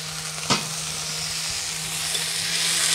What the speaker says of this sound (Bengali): জলটাকে দিয়ে ভালো করে মশলাটাকে কষিয়ে নেব।